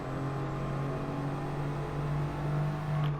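A small, light Honda race car engine in Gran Turismo Sport holds a steady, droning hum at constant revs throughout, loud and unbroken with no talk over it.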